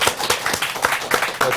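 Short burst of audience applause at a live talk-show taping welcoming a guest reporter, crisp dense clapping, close and lively, with no talk over it.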